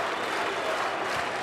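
A crowd at a FIBA AmeriCup qualifier basketball game between Cuba and the Virgin Islands in La Habana cheers and applauds after a three-pointer by Osmel Oliva, a steady, dense roar of noise with commentary speech running under it.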